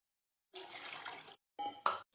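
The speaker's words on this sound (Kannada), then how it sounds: "ಇಲ್ಲಿ ಎರಡು ಕಪ್ನಷ್ಟು ಮೊದಲಿಗೆ ನೀರು ಹಾಕ್ಕೊಳ್ಬೇಕಾಗತ್ತೆ" Water poured into a pot for ragi porridge in two separate pours, a longer rushing stream followed by a shorter splash, with silence before and between.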